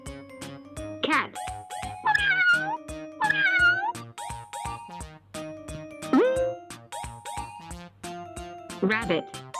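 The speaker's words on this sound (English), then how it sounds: "Cat." A cat meows several times, drawn-out and plaintive, over a bouncy musical backing with a regular beat.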